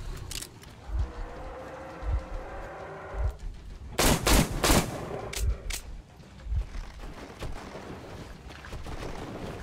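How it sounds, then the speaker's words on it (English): Gunfire at a bear in the video game Metro Exodus, heard as a rapid burst of sharp shots in the middle of the clip, with scattered thuds, rattling and game sounds before and after. "we have emptied an entire gun"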